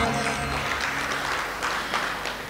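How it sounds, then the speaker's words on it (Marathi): An audience claps steadily at a devotional discourse about Sant Gulab Baba, with a continuous patter of applause under a voice and faint musical tones. "एकदा जोरदार टाळ्या वाजवा"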